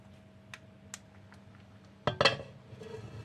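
Chickpeas tipped into a cooking pan after soaking, a sudden burst of clattering and rattling against metal following a few faint clinks, fairly quiet and close.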